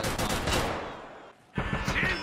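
Loud bursts of automatic gunfire in an Escape from Tarkov Arena match, a long rattling volley that fades, a brief lull, then renewed rapid shots, with faint voices mixed in.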